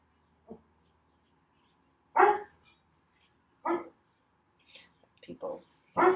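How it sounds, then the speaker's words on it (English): Several dogs bark at people walking in the desert, sending a few short, sharp barks in separate bursts, moderately distant, with quiet gaps between them and little else audible. "People walking in the back desert, and some of my dogs barking at them."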